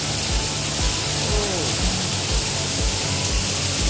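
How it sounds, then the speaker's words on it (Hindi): Dense, steady hiss of heavy rain drumming on a shed roof overhead, loud and unbroken, with faint low thumps underneath. "बहुत ही तेज़ बारिश हो रही है।"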